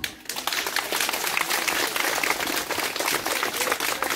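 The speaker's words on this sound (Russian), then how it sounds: "Эти аплодисменты вам." A full, steady burst of audience applause rolls on without a break, with a brief quieter moment at the start. The crowd claps in tribute to the caretakers and teachers of children at a Russian-language event.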